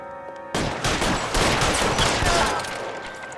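A sustained burst of gunfire in the LA Noire crime game, a loud dense crackle of rapid overlapping shots that starts abruptly and carries on to the end, no talking.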